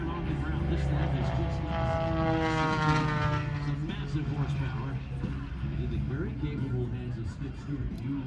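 A propeller aerobatic plane roars past at a Columbus, Ohio airshow twilight display, loud and sweeping with a rising then falling engine drone, under a commentator's voice.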